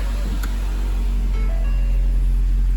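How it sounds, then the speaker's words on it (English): A used car's engine idles steadily right after start-up, a continuous low rumble heard from inside the car, loud and unbroken with no talking. "Start the car up and listen to it."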